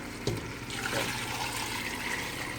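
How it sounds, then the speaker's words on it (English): Water poured into a pot of rice for arroz con pollo, a steady broadband splashing and trickling that runs the full length, close and moderately loud with no talking. "So you just add the water to it."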